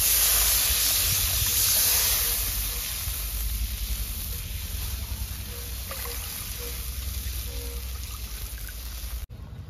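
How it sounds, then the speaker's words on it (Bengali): Water goes into a hot pan of salted spices for a thin aubergine and sea fish curry, setting off a loud hiss and trickle that settles into a softer, steady simmering sizzle. "এরপরে দিয়ে দেবো জল।"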